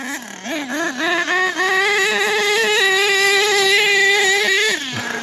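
HPI Savage nitro RC monster truck engine on a sunny day, a loud, high buzzing whine that revs up and down in quick bursts before settling into a sustained high-pitched scream, then dropping off at the end.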